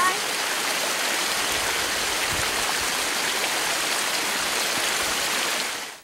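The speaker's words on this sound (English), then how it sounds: "Little spring. It's like a little waterfall thing" A small spring spills over rocks like a little waterfall, a close, continuous rushing splash of steady loudness that cuts off at the end, with no talk over it.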